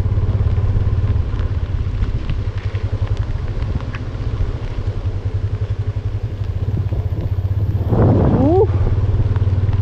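A motorcycle moves slowly through monsoon rain with a low, steady engine drone that stays loud and close, and a brief voice breaks in near the end.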